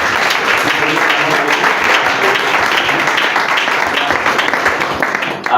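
A church congregation applauds steadily during a worship service, a thick, continuous wash of clapping from many hands that holds loud throughout and trails off slightly at the end.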